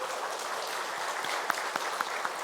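Church congregation clapping to bless and welcome newly attending members during a Korean Sunday worship service; steady, moderately distant applause filling the room, with a few sharper individual claps standing out.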